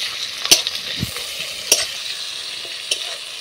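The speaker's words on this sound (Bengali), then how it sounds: "এরপর ভালো করে আমি মশলাটা ভেজে নিয়েছি" Spice paste with tomato, garlic and ginger stir-frying in a pan, a steady hiss of sizzling oil punctuated by a few sharp spatula scrapes, close and clear, with no talking.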